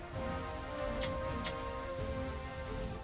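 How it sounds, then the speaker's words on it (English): Rain falls steadily in the video game Dynasty Warriors 8, a dense even hiss over a layered background of sustained game music, with two brief brighter splashes or ticks partway through. "Dude, it's raining."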